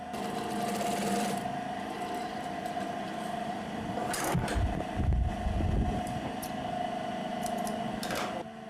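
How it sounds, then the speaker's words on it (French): A sewing machine stitches the inside of a leather shoe upper in a Togolese shoemaker's workshop, running as a steady, fairly loud mechanical whir for the whole stretch with a brief rougher patch midway. "Je vais maintenant coudre l'intérieur."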